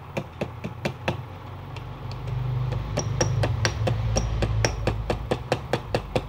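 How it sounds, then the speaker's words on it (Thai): A brass piece is struck with a steel punch at a 45-degree angle, a steady run of sharp metallic taps at an even pace over a low background hum. "นี่เราตอก45องศาไปก่อนยังไม่ไปตอกครับตอกน้อมๆไปก่อน"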